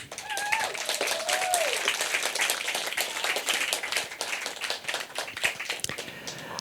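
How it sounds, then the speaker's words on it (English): Audience applause at a live stage event, dense clapping sustained throughout at steady loudness, with a few faint whistles or cheers rising over the crowd. "Just one more round of applause for Listen."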